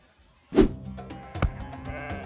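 Goats bleat close by: one loud cry, then a second shorter call, with quieter bleats trailing after, in a dramatized biblical story setting.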